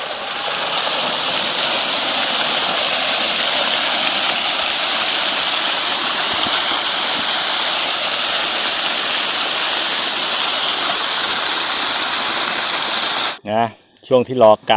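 Water gushes hard and continuously from a high-pressure 3-inch brushless pump running on six solar panels, a loud, even rushing roar that lasts most of the clip before a voice briefly speaks at the end.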